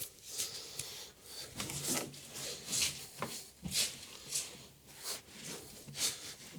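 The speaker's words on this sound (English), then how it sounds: "And now I'm going to use this old glove to wipe it down." An old glove wiping down a part on a V6 SN95 Mustang, giving close, rhythmic rubbing swipes that repeat about every half second, soft and dry, with no talking.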